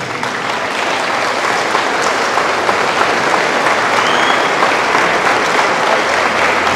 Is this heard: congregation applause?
yes